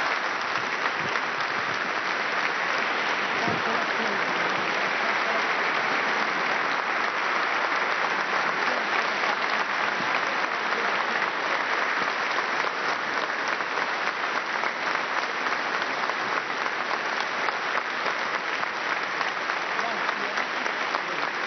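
Sustained, even applause fills the Rome synagogue after Pope Benedict XVI's speech, a dense crowd clapping steadily for over twenty seconds without letting up.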